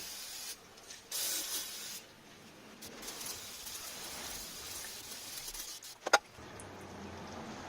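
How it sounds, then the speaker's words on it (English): Brake cleaner is sprayed into the rear differential of a Hummer H3 during an E-Locker rebuild, giving quiet, steady aerosol hissing in several short bursts, with a sharp click near the end. "Spray a little bit of brake cleaner in there."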